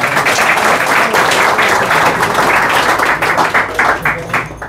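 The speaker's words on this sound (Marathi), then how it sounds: "टाळ्या वाजवा." An audience claps together at an academy results celebration, a dense, steady burst of applause lasting several seconds that thins out at the end.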